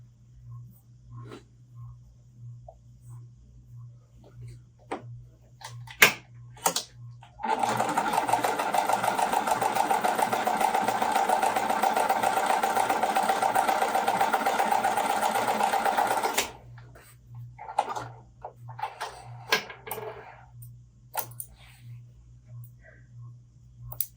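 A sewing machine stitches cotton fabric rectangles together in one steady, loud run of about nine seconds, with quiet fabric handling and small clicks before and after.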